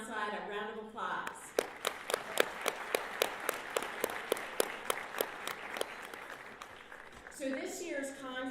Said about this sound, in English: Let's give all of those who came here from outside a round of applause